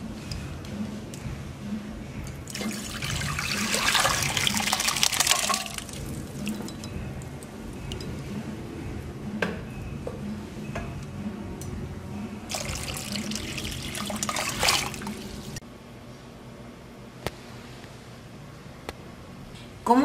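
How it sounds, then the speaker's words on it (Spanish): Water pours into a cooking pot holding soaked tapioca, a steady splashing stream that swells twice into louder rushing bursts before settling to a quieter trickle, close by with no talk. "Lo vamos a poner a cocer con un litro más de agua."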